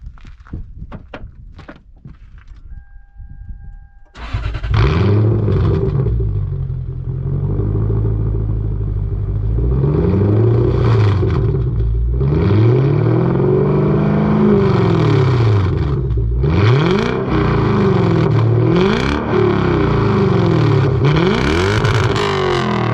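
A modified Lexus LS430 with a straight-through exhaust and twin exit starts up after some clunks, then idles loudly and revs repeatedly in rising and falling sweeps, close and very loud throughout.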